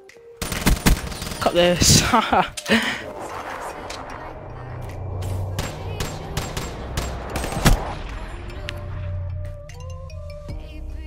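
Gunfire in Black Ops 3 Search and Destroy gameplay, a dense burst of sharp rapid shots at the start, then scattered single cracks and a final shot over a background game hum, with a brief spoken remark.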